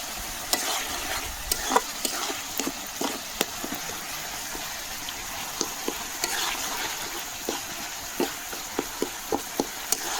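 Masala for an Odia rohu fish curry fries in hot oil, a soft steady sizzle broken by repeated sharp scrapes and taps of a spoon stirring against the pan, close and fairly quiet.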